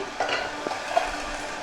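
Soaked rice being stirred in a cooking pot, giving a few soft scraping and swishing strokes over a low simmering hiss. The stirring sits close and clear, with no voices.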